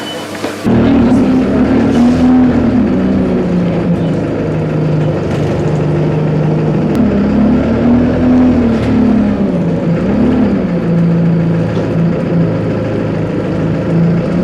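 A steady engine drone from inside a bus on the link between Glasgow Central and Queen Street stations, with a low rumble rising and falling gently as it moves through traffic, continuous for the whole stretch.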